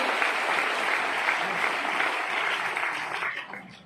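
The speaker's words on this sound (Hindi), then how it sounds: "एक बार जोरदार तालियां उनके लिए जरूर बताना" Loud, sustained applause from an audience at a motivational speech event, steady clapping filling nearly four seconds before tapering off at the end, with faint murmurs underneath.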